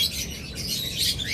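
Caged pet birds released from a box chirp close by, a few bright, quick tweets over a low rustling background.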